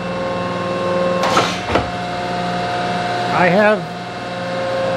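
A machine planing a Bridgeport mill table runs as a steady, close mechanical hum throughout, while someone speaks briefly over it.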